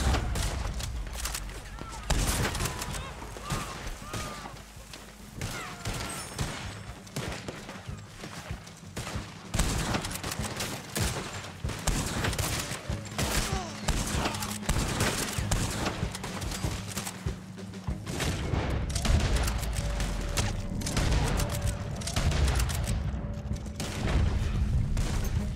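Gunfire rattles through the western video game Red Dead Online in a long, dense run of shots on horseback, with hoof clip-clop mixed in and the players talking over it.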